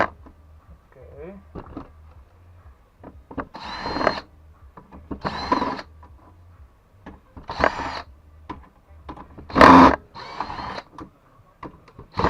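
A power screwdriver backs screws out of scrap electronics in short, separate bursts of whirring, about five runs spread through the stretch with quiet gaps between, heard up close with a few faint handling clicks.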